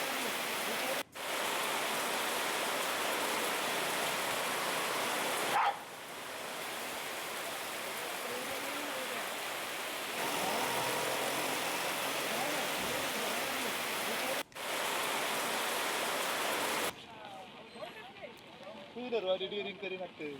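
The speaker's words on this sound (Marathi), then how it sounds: "उल्हासनगरमध्ये विजेच्या कडकडाटासह मुसळधार पावसाने हजेरी लावली होती" Dense, steady roar of heavy monsoon rain in Ulhasnagar, Maharashtra, pouring continuously, broken by a few abrupt cuts, ending in a quieter stretch with rain and muffled voices; no distinct thunder.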